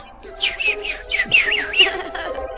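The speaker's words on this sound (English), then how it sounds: "Chirped the bird gaily." Bright, cheerful bird chirps and whistled trills repeat in quick rising-and-falling phrases over a soft orchestral background, part of a Peter and the Wolf adaptation with a little bird perched on a tree branch.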